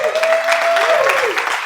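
An audience at a leadership summit claps briefly under a speaker's voice, with the applause steady and moderately loud throughout.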